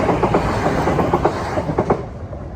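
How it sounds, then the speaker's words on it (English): A train rolls past near an incinerator in Newhaven, a steady loud rumble with rhythmic clickety-clack of wheels over rail joints, easing off at the end. "Hang on, there's a train."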